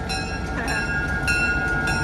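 The Heber Valley heritage train in Utah rumbles steadily nearby with a high, sustained tonal whine and faint rhythmic clatter as it pulls away.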